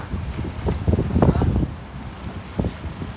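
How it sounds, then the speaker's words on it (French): Strong coastal wind at Le Touquet buffets the microphone in a low, rumbling roar that gusts and swells throughout, with a faint voice underneath. "Il y a un vent à décorner les bœufs"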